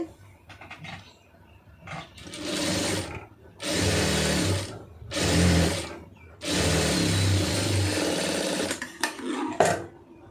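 A sewing machine stitches a folded fabric hem in several bursts of fast, close whirring, separated by short pauses and lighter handling noises.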